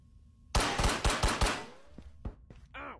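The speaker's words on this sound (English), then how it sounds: "You shot my hand." A rapid burst of loud, close gunshots in the VR shooter Ghosts of Tabor, about five quick cracks followed by a few scattered shots and a short metallic ringing tail.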